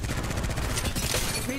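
Rapid automatic fire from a light spray gun in the mobile shooter Apex Legends Mobile rattles in fast, close bursts over a busy background of game effects.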